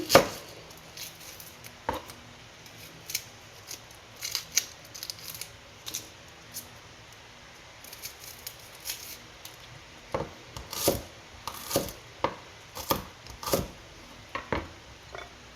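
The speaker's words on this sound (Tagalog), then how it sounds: "Sunod naman ang sibuyas. Hiwa-hiwain din natin." Onions are sliced with a knife on a board for a tomato-braised chicken dish, making irregular crisp chopping taps that grow quicker and denser toward the end, close and moderately quiet, with no talking.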